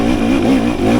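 A 2023 KTM 300 XC TBI two-stroke dirt bike engine revs hard in third gear while climbing a trail hill, giving a loud, close, sustained buzzing drone with slight pitch wavering and no talking.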